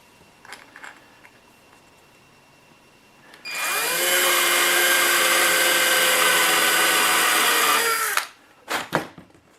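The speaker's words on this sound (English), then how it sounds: "we're going to drill a 3/16 hole in the cover plate." A power drill bores a 3/16 hole in the cover plate of a 1/14 Tamiya Grand Hauler model truck, whining loud and steady for about five seconds before winding down, with faint handling clicks before and after.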